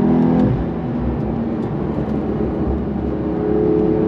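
A 2023 Porsche 911 Carrera T with its 3-liter engine holds a loud, steady rev in third gear, a dense continuous drone with a slight swell near the end and no voices over it.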